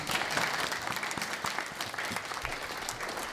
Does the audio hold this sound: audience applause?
yes